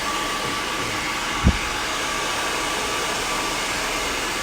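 Hair dryer blowing steadily and close while long layered hair is smoothed with a brush, a constant airy roar with one brief low thump partway through and no speech.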